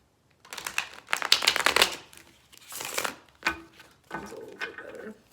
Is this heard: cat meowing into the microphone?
no